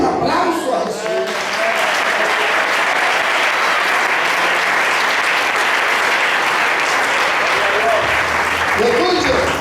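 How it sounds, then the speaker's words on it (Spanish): A congregation at a church spiritual retreat applauds for Jesus: sustained, dense clapping that fills the room for nearly ten seconds, with voices briefly audible at the start and end. "Un aplauso a Jesús."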